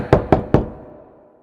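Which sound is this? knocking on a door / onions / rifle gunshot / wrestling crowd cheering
knocking on a door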